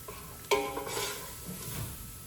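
Garlic dropping into a pot of sautéing Cajun trinity of onion, celery and bell pepper for crawfish bisque, a sharp clink of a utensil followed by a soft hissing sizzle that settles into quiet frying, close and without voices.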